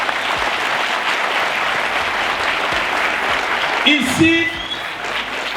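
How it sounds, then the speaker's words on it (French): A large audience at the Jour de Gloire event applauds loudly and steadily for the whole stretch, a dense wash of clapping, while a voice briefly speaks over it near the end. "j'aimerais que chacun de nous ce soir puisse applaudir très fort pour notre pays"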